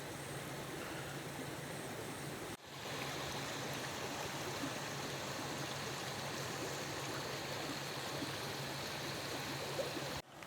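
A stream flowing through a valley village in Xaysomboun, Laos, a dense continuous rush of water close by, briefly cut twice, with no voices.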